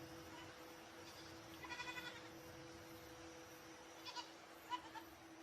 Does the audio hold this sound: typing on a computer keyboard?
no